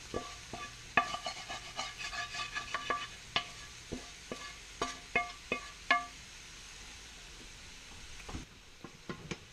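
Spinach, mushrooms and tomatoes are stirred in a pan over low heat, giving a quiet sizzle broken by a series of short utensil scrapes and taps, clustered early and then spaced out.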